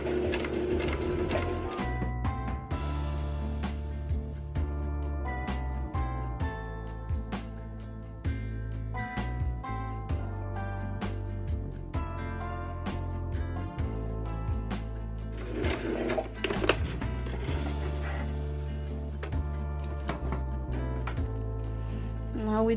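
A sewing machine stitching all the way around a fabric mask: steady rapid mechanical clatter of the needle runs throughout, with brief pauses and changes in pace, fairly close.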